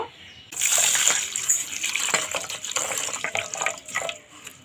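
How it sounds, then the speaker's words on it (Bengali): Sago pearls being washed in a bowl of water, with steady swishing, splashing and running-water sounds close by from about half a second onward, uneven bursts of sloshing throughout. "সাবুটা এবার 2-3 বার জলটা পাল্টিয়ে ভালো করে ধুয়ে নেব।"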